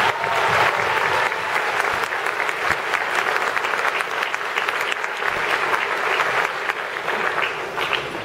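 Sustained applause from a large crowd, steady and dense clapping throughout with no voices standing out.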